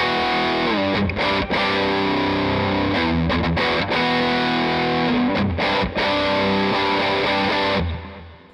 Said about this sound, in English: Now all we're going to be doing is just turning up the gain up to 21 and the booster level is on 40.